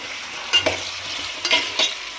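Tomato, cucumber, bottle gourd and drumstick pieces stirred together in a pot for sambar, giving a few short scraping and clattering strokes over a soft background hiss, with no one talking.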